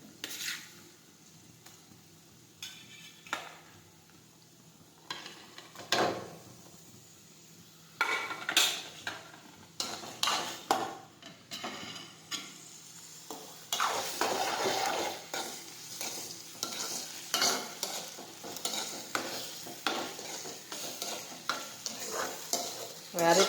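Onions and chopped tomatoes sautéing in a pan: a low sizzle under repeated scraping and clattering of a spatula against the metal, quiet at first, then busier and louder stirring, close up with no speech.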